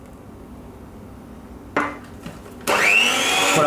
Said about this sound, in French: je mélange pour bien incorporer donc le beurre à ma préparation.